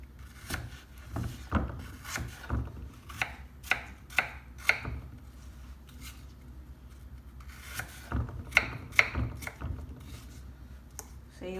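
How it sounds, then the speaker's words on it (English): A knife chopping apples into small pieces on a board for Dorset apple cake, with repeated firm thuds and crisp cuts in uneven clusters, close up with no talking. "So I'm cutting them up into slices"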